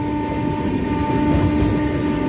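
Passenger train on the Puri Duronto Express route overtaking the stationary Shalimar–Puri Weekly Superfast Express: a loud, steady rumbling roar of rolling wheels with a sustained tonal hum throughout.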